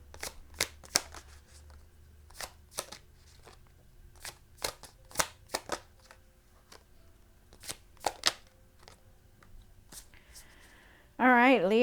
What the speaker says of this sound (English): I'm going to pull out a couple of cards for you